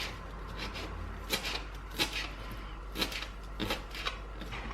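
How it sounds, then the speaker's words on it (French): A knife finely chopping fresh coriander and parsley on a cutting board in a home kitchen, a series of soft, irregular taps spaced about a second apart over a low hum, close and fairly quiet. "Moi je viens découper ça sur une planche finement."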